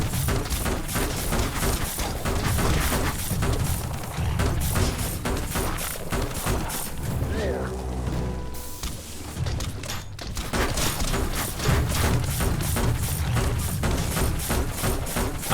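Biomutant automaton firing in combat, a dense, sustained clatter of rapid gunfire with thumps, loud and near, briefly dropping to a lull before resuming.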